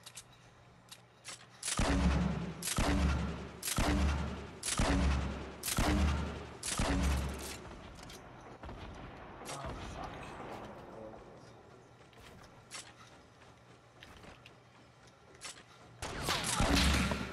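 Sniper rifle fire in the Fortnite battle royale video game: a rapid run of loud, heavy shots with a steady buzz beneath, a calmer noisy stretch, then another loud burst at the end.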